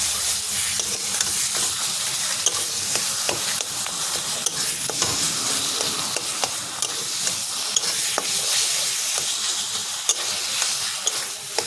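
Taro greens (kochu shak) dusted with a light pinch of garam masala are stirred in a hot pan: a steady, close sizzle with intermittent spatula scrapes and taps, no voices.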